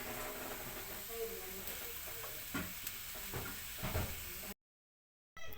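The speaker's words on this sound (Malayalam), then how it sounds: "മീൻ കൂട്ടാൻക്കുള്ള അരപ്പ് തിളച്ചോണ്ടിരിക്കുകയാണ്." Fish curry paste for mackerel curry bubbling in a pan, with a soft constant sizzle and scattered pops, plus a few utensil clinks and knocks near the end before a brief cut to silence.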